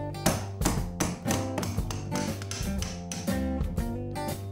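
Hammer blows on a chisel driving an entry door hinge pin upward, a series of ringing metallic taps in an uneven rhythm, close and fairly loud, each with a short resonant tail.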